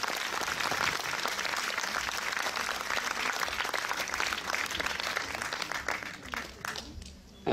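An audience at a film premiere presentation in Rochefort applauds arriving guests with continuous, full crowd clapping at a moderate distance, holding steady before fading out near the end.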